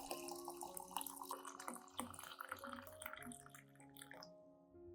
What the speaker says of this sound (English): I pour 500 milliliters of warm water over the mandarin peels.